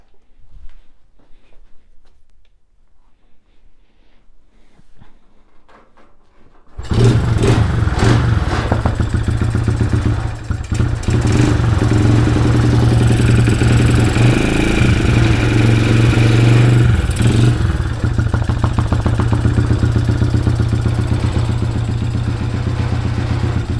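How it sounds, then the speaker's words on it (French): After quiet rustling, a Honda XR 70 dirt bike engine is kick-started and runs loudly, a steady close idle with clattering mechanical noise throughout. "Il démarre au quart de tour, premier coup de kick, et le bloc il tourne"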